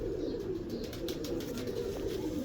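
A Zeera pigeon with double markings coos in a low, continuous rolling murmur, close and steady throughout with faint bird chirps above.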